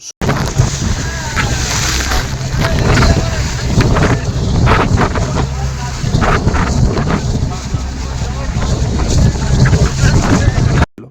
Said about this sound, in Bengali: সমুদ্রের ঢেউ আমাদের ট্রলারে খুব হার্ডভাবে হিট করছিল।